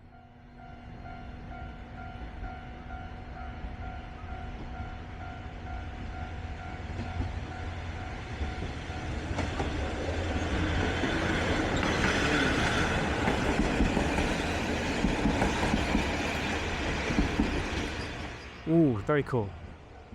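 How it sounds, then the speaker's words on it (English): A train rolls past a closed railway crossing in Japan, building from a distant rumble to a loud, steady rush of wheels over rails, with the crossing bell ringing early on and a brief voice near the end. "we've got a train crossing closed up there, which means the train's coming from one direction or another"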